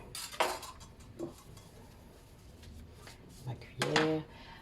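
A whisk and a spoon set down and handled on a kitchen work surface, a few sharp metallic clinks and knocks spaced apart, close by, with a person speaking between them.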